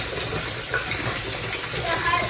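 A bathtub filling from the tap for a bath bomb, a steady rushing gush of running water throughout with faint voices in the background.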